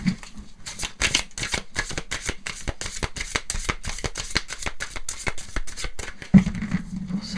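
Tarot cards shuffled in a rapid, even run of crisp riffling flicks over about six seconds, close and clear, ending with a single card drawn off the deck.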